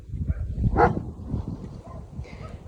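A dog outside near a home vegetable garden gives a few short, yelping barks and whimpers in uneven bursts at moderate distance, with no talking over it.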